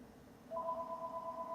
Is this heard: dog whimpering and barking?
no